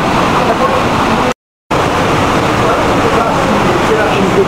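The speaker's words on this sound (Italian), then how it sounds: "sentire tutto questo rumore d'acqua" Water rushes loudly at the main spring source, where about 500 litres per second flow out. It makes a steady, dense roar close by, with one brief dropout to silence.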